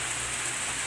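Steady heavy rain falling outdoors in the Philippines, a dense continuous hiss of a growing downpour with no pauses or voices.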